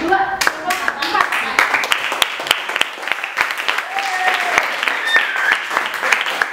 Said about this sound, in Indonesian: Aplaus untuk kelompok 2, kelompok 4.